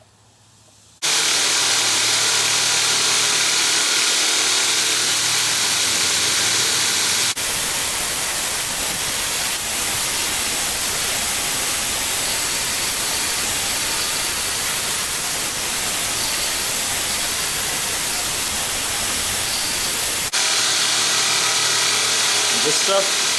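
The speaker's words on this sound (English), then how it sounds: "I'm gonna go into the belt grinder right here and start rough shaping" Belt grinder rough shaping the steel head of a full tang hatchet: a loud, continuous abrasive roar that starts abruptly, holds steady for about twenty seconds and shifts in tone as pressure changes.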